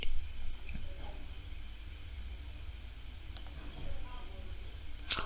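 A computer mouse clicks a few times, faint and close, against quiet room noise while working in architectural design software.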